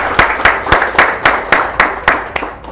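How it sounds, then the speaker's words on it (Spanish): Sharp, evenly spaced claps ring out close and loud in applause for Hugo, about ten crisp strikes in a steady rhythm that fades slightly toward the end. "un gran aplauso, por favor, para Hugo"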